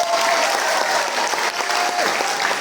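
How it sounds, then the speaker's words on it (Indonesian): A congregation at a Sunday worship service claps together in steady, close, energetic applause that carries through the whole moment without a break. "tepuk tangan Matias."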